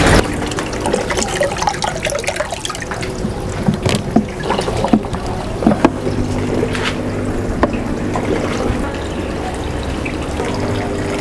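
Water from a lobster tank pours into an aquaponics gutter grow bed with a bell siphon, a continuous splashing, trickling flow close by, with scattered knocks and clicks over the running water.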